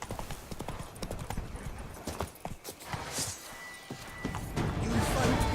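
Hooves of the horse Roach clopping quickly at a gallop in The Witcher 3, rhythmic close thuds with some rustling, and a voice briefly speaking over them.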